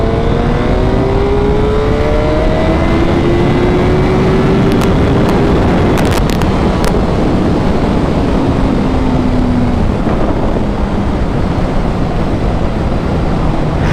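A motorcycle accelerates along a straight commuter road, its engine tone climbing in rising sweeps through the gears beneath a constant heavy rush of wind, with no voices.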